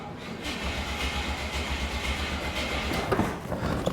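A 1973 Buick Centurion's Oldsmobile 350 V8 cranks on a weak jump box, a steady low rhythmic churning from the starter turning the engine over. It runs throughout without catching.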